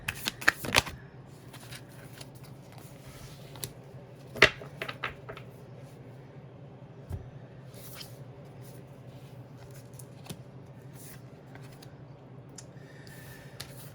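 Tarot cards are shuffled close by, with a quick burst of riffling at the start and another midway, then soft scattered flicks and taps against a quiet background.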